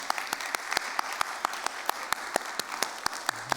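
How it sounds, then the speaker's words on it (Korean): A church congregation applauds mothers during a Sunday service, with sparse, distinct claps from a modest group, loose and uneven in rhythm, heard at a gentle distance against a quiet room. "축복하는 마음으로 박수 드립시다"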